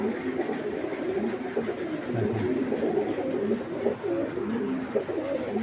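Racing pigeons coo in a loft in a continuous, overlapping murmur of low, rolling calls close by, without any speech.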